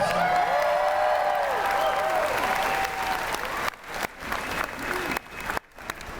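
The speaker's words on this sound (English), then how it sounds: "Let's give a round of applause" Crowd applause for the Howl-O-Scream announcement at Busch Gardens Williamsburg, loud and continuous for several seconds, then thinning into scattered claps with a few brief gaps near the end.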